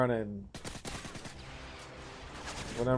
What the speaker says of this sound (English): this gun is absolutely deadly. It fires so fast.